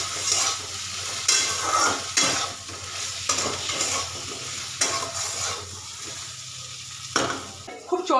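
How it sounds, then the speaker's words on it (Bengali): Food being stirred in a hot pan with turmeric powder, a steady close sizzle broken by repeated scraping strokes of a spatula against the pan, with no talk. "এটাকে ভালো করে নাড়াচাড়া করে নেবো"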